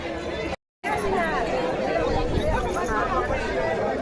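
Dense crowd of pilgrims at the Wari procession fills the scene with continuous near and distant chatter and babble. The noise cuts out briefly, then carries on steadily under nearby voices.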